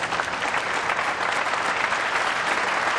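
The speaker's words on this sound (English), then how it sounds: "Crowd appreciates that shot." Sustained applause from a pool hall crowd at the 2004 World Pool Championship after a combination shot, a dense, even patter of clapping throughout with no voices standing out.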